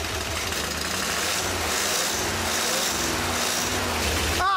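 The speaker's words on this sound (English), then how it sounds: "And there we have it, a smooth running engine." Car engine idling steadily and smoothly after a carburetor adjustment with a screwdriver, a constant close mechanical drone with no talk.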